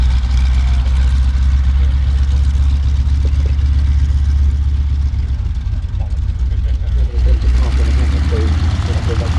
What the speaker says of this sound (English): This aircraft is powered by a sleeve valve radial engine